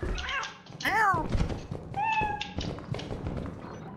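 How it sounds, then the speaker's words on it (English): A cat meows a few times in the game Lethal Company, with thumps and footsteps around it and players talking over the sounds. "Here, take the cat."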